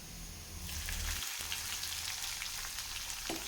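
Garlic and chopped onion frying in oil in a pan, a steady close sizzle with crackling pops running throughout, no voices.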